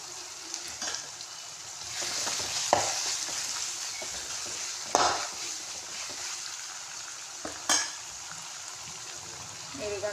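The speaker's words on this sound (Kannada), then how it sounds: "ಈಗ ಒಂದು ಸ್ವಲ್ಪ ಫ್ರೈ ಆಗಲಿ ರೀ" Kanda poha frying in a pan, Maharashtra style: a steady close sizzle runs throughout, with a few sharp clinks of a spoon against the pan at intervals while it is stirred, and no talking.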